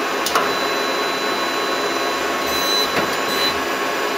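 The sub spindle of a Star SW7R Swiss-type CNC lathe spins at 5,000 RPM, a loud steady mechanical whir and hum with a faint high whine, heard close and continuous with a couple of brief clicks.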